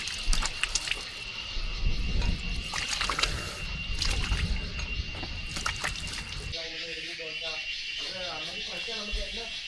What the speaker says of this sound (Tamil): கேரளா தண்ணியில் மூஞ்சியை கழுவுறது ஒரு தனி சுகம்யா